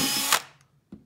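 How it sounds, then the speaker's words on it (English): A power drill bores holes into a plastic bottle, with a brief loud whirring burst that winds down, followed by a short knock. "Now we get to actually drill all the holes that our breath, our air will be passing through."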